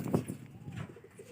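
Pigeons coo softly up close, a brief low burst followed by a few quieter murmuring coos against faint background noise.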